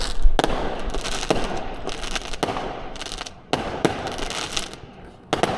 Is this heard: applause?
no